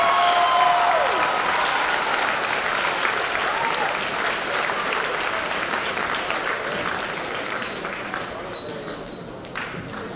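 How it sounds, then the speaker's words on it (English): An audience at a school Founder's Day event applauds, a dense, loud wash of clapping that holds steady and then gradually thins toward the end, with a few sharp pings and scattered voices within the crowd. "Can I just have one more applause for Adalia, Delilah, and Mr."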